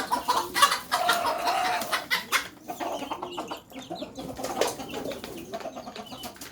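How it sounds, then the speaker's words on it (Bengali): Chickens clucking in a dim shed where small chicks are kept, with pigeons nearby, giving a close, busy mix of clucks, chirps and brief wing flaps that rise and fall over several seconds. "এই যে ছোট্ট ছোট্ট মুরগির বাচ্চাগুলো"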